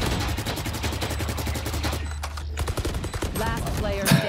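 Rapid automatic gunfire from the tactical shooter Valorant on the Ascent map, dense repeated shots in quick bursts that fill most of the moment before tapering into a few scattered reports.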